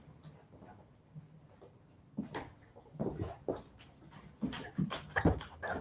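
A large pet dog whimpering indoors in a home office, soft intermittent whines and snuffles growing more frequent, close and fairly quiet, with no talking.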